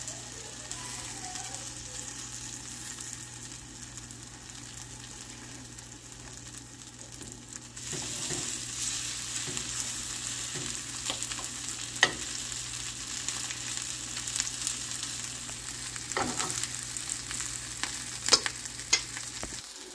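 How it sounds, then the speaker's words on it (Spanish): Poblano pepper and cheese patties fry in hot oil with a steady close sizzling hiss throughout, growing slightly louder partway through, broken by a few sharp crackles and pops. "Aquí ya está nuestro aceite caliente y vamos a formar nuestra primera tortita."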